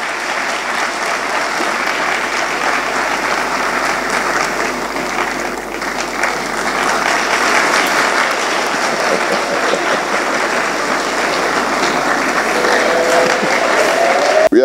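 Sustained, loud applause fills a university graduation hall at UPSA, as a large audience claps continuously for nearly fifteen seconds, dipping briefly near the middle before swelling again.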